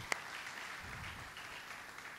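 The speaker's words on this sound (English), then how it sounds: "Please, a round of applause for him." Steady applause from a lecture audience, a continuous wash of clapping at moderate level with one sharper clap near the start.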